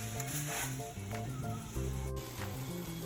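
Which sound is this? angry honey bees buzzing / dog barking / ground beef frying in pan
ground beef frying in pan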